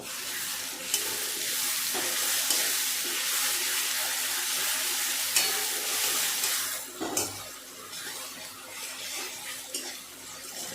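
Onions with ginger-garlic paste sizzling in a wok for mutton curry, a steady hot frying hiss throughout with a spatula scraping and stirring, and a few clinks against the pan.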